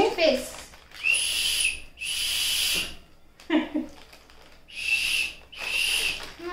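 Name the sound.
toy whistle being blown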